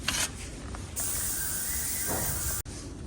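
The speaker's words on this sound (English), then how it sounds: "I'm going to try and use the vacuum bleeder and see where we go." A compressor-driven vacuum bleeder on the front brake caliper of a worn 1976 Honda CB500T gives a brief mechanical click, then a steady close hiss that cuts off abruptly.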